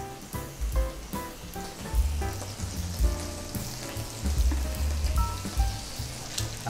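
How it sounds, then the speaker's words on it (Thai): Pork belly sizzles on a grill, a dense crackling hiss running the whole time, loud and close, with a low pitched tonal background underneath. "หมู3ชั้นนะครับลงไปเลย"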